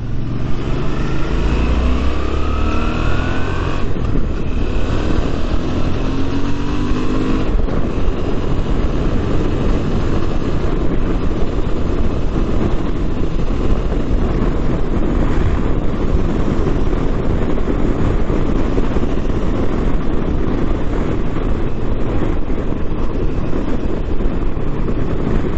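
A 2018 Suzuki V-Strom 650 motorcycle cruises on a highway, its engine droning steadily under heavy rushing wind noise. The loud, continuous roar holds throughout with no talk.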